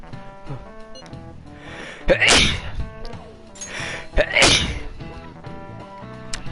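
Two sharp sneezes about two seconds apart in the video game Persona 5 Royal, each a quick breathy burst, over a soft musical background.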